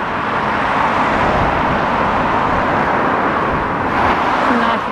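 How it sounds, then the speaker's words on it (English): Small Fiat car passing on a road by Stanley Park at dusk, a steady close engine-and-tyre roar filling the scene without a distinct swell. "I like those little cars, those little Fiats."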